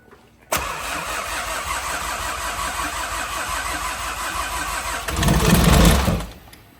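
A fully built Audi RS3 with a TTE855 turbo cold-starts after a brief crank, catching sharply into a loud, steady idle before a rising surge of revs that then dies away.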